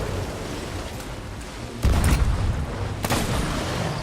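Ship cannon fire in the Sea of Thieves pirate game: two heavy booming blasts, the first at about two seconds with a rumbling tail and a second sharper shot near three seconds, over steady background rumble.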